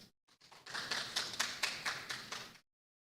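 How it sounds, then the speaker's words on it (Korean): A short burst of audience applause at a school education presentation, sparse hand claps building into a few seconds of steady clapping before stopping abruptly, fairly faint. "큰 박수 부탁드립니다."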